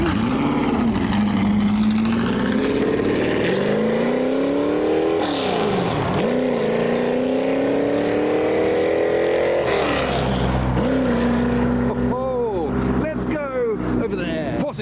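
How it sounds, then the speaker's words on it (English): A Ford GT40 sports car pulls away from a car show at Bicester Heritage's Sunday Scramble, its engine revving up loud and close through several gear changes before fading, with someone talking over it. "We have a GT40 departing."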